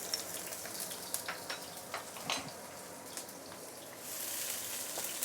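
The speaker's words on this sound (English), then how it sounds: "Let's saute this shallot for a minute or two before we continue." Shallot sautéing in hot vegetable oil: soft, steady sizzling with scattered light ticks and pops, faint and close, rising slightly toward the end, no voices.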